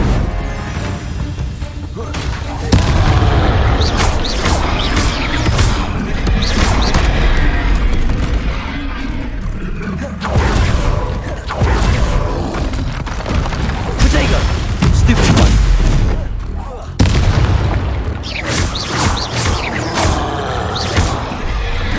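Confringo and Incendio spell blasts in Hogwarts Legacy bursting as heavy booms and crashing impacts, repeated every few seconds with crackling debris between, loud and close, while a voice speaks at times.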